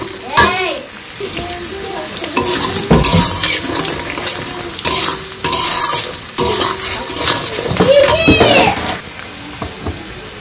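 Green chilies and fish frying in a pan for a pumpkin dish, close and loud, with sizzling and repeated spatula stirring and scraping in bursts, and a voice talking now and then.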